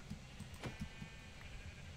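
Sheep bleating in Minecraft, a few short game-sound bleats that overlap and repeat over two seconds at moderate loudness, with no talking.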